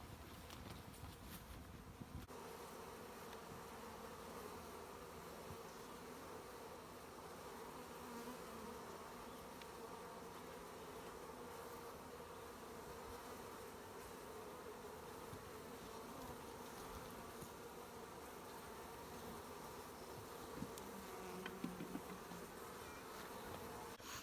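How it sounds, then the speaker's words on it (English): A swarm of honeybees clustered on a tree branch outdoors, giving a steady, continuous buzzing hum that stays even throughout, with light wind in the background and no talking. "we've got a good cluster of bees still up here on the branch"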